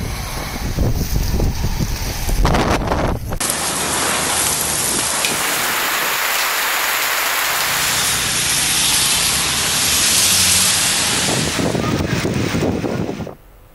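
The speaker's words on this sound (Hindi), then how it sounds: "पंजाब के इलाकों में तेज़ हवाओं के साथ बारिश।" Heavy rain lashes down in strong winds in the Punjab region, a loud, broad roaring hiss with gusty rumbling buffeting that swells and holds for several seconds without any speech.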